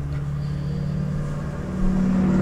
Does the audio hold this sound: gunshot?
no